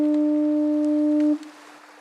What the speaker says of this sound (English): Why do you think they put a foghorn here?